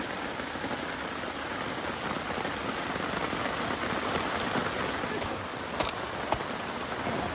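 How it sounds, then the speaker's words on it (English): Heavy rain pours steadily at night on a wilderness overnight hiking trip, a dense hiss of drops on surfaces with a couple of sharper taps near the end. "now it's raining heavier than it has all night"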